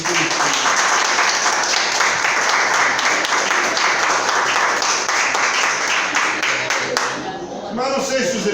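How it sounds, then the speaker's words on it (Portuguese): A church congregation applauds together, a dense, loud and steady wash of many hands clapping for about seven seconds before it thins out, with some voices mixed in near the end. "Eu quero que você aplaude o Senhor Jesus Cristo."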